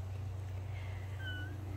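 Two pet cats give faint, thin meows, a couple of short rising calls over a steady low background hum in a quiet room.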